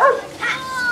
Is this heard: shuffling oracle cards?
no